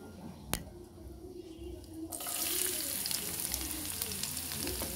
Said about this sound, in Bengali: গোল্ডেন ব্রাউন কালার হওয়া পর্যন্ত ভেজে নেব